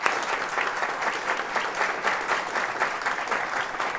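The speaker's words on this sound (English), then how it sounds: "please join me in welcoming the president of Spelman College, Dr. Mary Schmidt Campbell and Jenny Hamill." An audience at a college event on HBCUs claps to welcome a speaker to the stage, producing dense, sustained applause that stays steady and fairly loud throughout.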